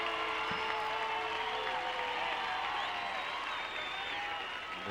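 A baseball crowd applauds a relief pitcher, Kevin Costner, at a 1995 Colorado Silver Bullets vs Hollywood Star Sox game, a steady dense wash of distant clapping and crowd noise holding at an even level throughout.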